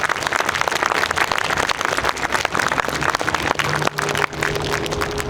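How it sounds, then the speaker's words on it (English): Sustained applause from a crowd at a 2021 groundbreaking ceremony for the Hibbing Early Learning Center, dense and steady clapping filling the whole stretch, with faint tonal hums underneath. "Let's give them a big round of applause"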